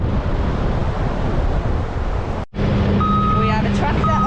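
A tractor rumbles on a beach lined with famous beach huts in South Africa's Cape, its steady engine drone blending with wind and surf. A brief dropout is followed by high electronic beeps.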